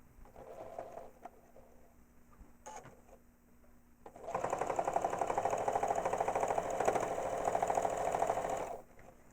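An APQS longarm quilting machine sews binding onto a quilt edge, quiet low hum at first, then a loud steady rapid stitching whir that runs for several seconds before stopping.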